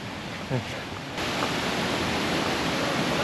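Hongryong waterfall near Hongryongsa temple in Yangsan produces a steady, close rush of falling water that swells noticeably louder partway through, with no voices.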